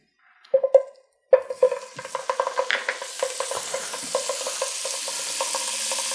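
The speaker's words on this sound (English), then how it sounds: "In our same exact pan here, we're going to add some butter. I have here 3 tablespoons of butter, which is about 42 grams. Right in." Three tablespoons of butter drop into a hot pan with a few sharp taps, then break into a rising, crackling sizzle that settles into a steady fizz, close and fairly loud with no talking.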